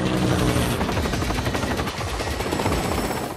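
Attack helicopters in an action scene: a loud, continuous, dense chop of rotor blades that fills the whole stretch with no pauses.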